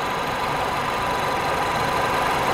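A car engine idles steadily with its AC compressor clutch engaged, giving a constant, close mechanical hum and whir with no talk.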